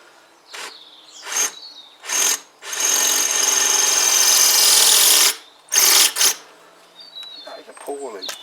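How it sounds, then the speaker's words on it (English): A long, thin drill bit bores a pilot hole into a Kawasaki BN125 Eliminator engine part, with short whirring bursts and then a sustained loud drilling run of several seconds, closely heard with no talk. "to get a pilot in there you need a really long drill"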